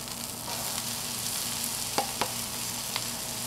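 Onions and peppers hit a hot Blackstone griddle, a steady bright sizzle with a few sharp crackles and pops near the end, close and without talk.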